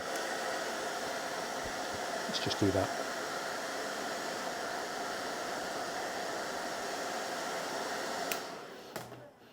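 A hair dryer heating a tube blows with a steady, breathy whoosh, close and continuous, while a person speaks briefly over it before it cuts off.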